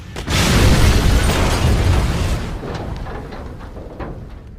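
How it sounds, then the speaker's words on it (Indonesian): A car explodes in a loud explosive boom that sustains as a roaring, crackling blast, slowly fading over several seconds. "seketika mobil tersebut akhirnya pun meledak serta membakar sosok aneh itu"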